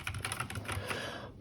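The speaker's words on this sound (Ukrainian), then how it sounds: "Працюємо на клавіатурі." Typing on an Akko 3068B Plus mechanical keyboard, a quick run of close, crisp keystroke clicks in steady succession with no voices.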